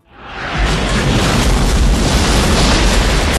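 A warship's cannon fires in a film and sets off one loud, sustained roaring blast. It swells quickly, holds at full force for about three seconds, then cuts off abruptly.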